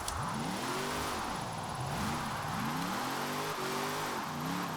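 A Hot Wheels car with a drift-tuned engine revving in Forza Horizon 4, loud and close, rising and falling in several repeated throttle blips over a steady hiss.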